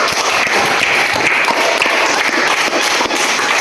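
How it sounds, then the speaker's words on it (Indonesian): Students in a classroom clap for a presentation group, a dense, even burst of applause filling the room loudly throughout. "silakan berikan aplaus untuk kelompok"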